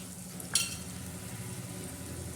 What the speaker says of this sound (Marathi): याला असा मस्त तडका द्यायचा